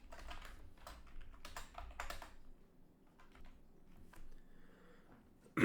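Fingers type code on a computer keyboard in close, soft bursts of clicking keystrokes, dense at first then sparser with pauses, fairly quiet and without talk.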